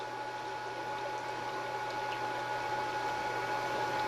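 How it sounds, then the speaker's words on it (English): Water bubbles up through household plumbing lines after the pump is switched on, during a check valve replacement. A faint, continuous gurgling hiss runs steadily under a low mechanical hum, with no talking. "I can hear the water bubbling up."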